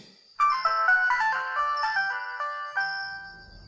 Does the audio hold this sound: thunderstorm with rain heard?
no